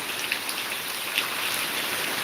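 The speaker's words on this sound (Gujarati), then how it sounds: "જુઓ મિત્રો કેટલો વરસાદ પડે" Heavy rain pours down in Dera village, a dense, even hiss of drops hitting surfaces close by, with a few sharper individual splats standing out and no voices.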